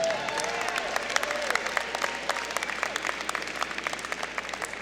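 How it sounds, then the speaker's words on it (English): Sustained round of applause for new graduates at a university fall commencement ceremony, steady dense clapping from a large audience in a hall, moderately loud and continuous. "Let's give all our new graduates another round of applause."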